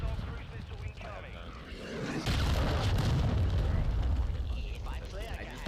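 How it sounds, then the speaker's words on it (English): A cruise missile blast in Call of Duty lands as a heavy, loud rumbling boom roughly midway through, then a sustained roar of debris and game noise under a busy mix, with voices talking throughout. "Hostile cruise missile incoming"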